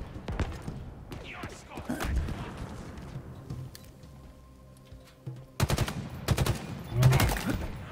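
Automatic and single-shot gunfire from Halo Infinite multiplayer, rapid bursts and sharp cracks spread across the moment, loud and close with a dense volley near the end, under excited talk.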